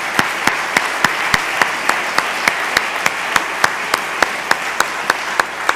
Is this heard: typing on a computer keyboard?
no